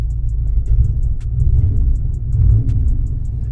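A truck with a 5.7 Vortec small-block Chevy on a Holley EFI and 4150 intake manifold idles and revs with its current fuel pump, a deep, steady engine rumble close by with mild surges and no talking.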